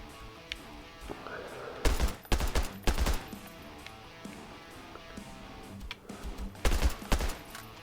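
Gunfire in the VR shooter Hard Bullet on PSVR2 cracks out in loud clustered bursts of several shots, separated by quieter stretches of ambient game noise.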